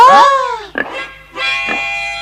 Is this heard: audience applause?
no